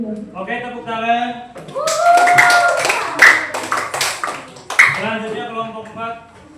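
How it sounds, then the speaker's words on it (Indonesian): Applause in an Indonesian classroom lesson on Pancasila, students clapping together briefly amid lively voices and chatter, with a few sharp claps standing out over the talk. "tepuk tangan"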